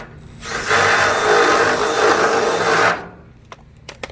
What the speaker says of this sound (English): we're going to ream that out just a little bit